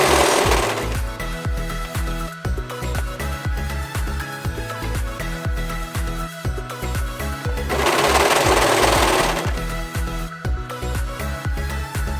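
A Janome 500E single-needle embroidery machine stitches a sleeve with a loud, rapid, rhythmic mechanical chatter, broken by brief bursts of louder whirring, close up and with no talking.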